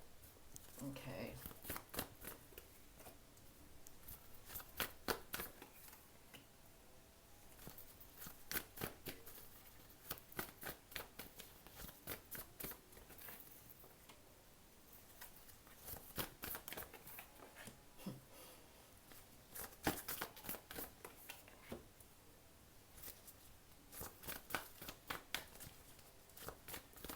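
A deck of tarot cards being shuffled and handled, soft papery flicks and riffles in irregular clusters, close and fairly quiet, with a voice talking between bursts.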